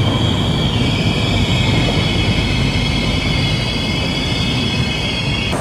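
Rupasi Bangla Express passenger train departing, a sustained rumble of rolling wagons with high steady wheel squeal running through most of the passage, close and loud, no voices.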